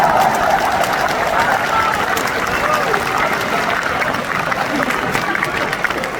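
Audience clapping at a business seminar hall, a dense continuous roar of applause blended with crowd noise, loud and sustained throughout, slowly easing toward the end.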